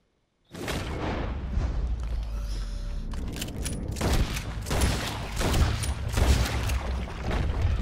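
Rapid bursts of gunfire ring out in Red Dead Redemption 2, a sudden heavy volley followed by repeated loud shots and booms that keep coming in uneven clusters, with no talking over them.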